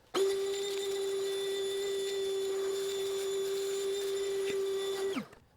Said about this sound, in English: let's go ahead and vacuum one more time just around everything before we remove our bolts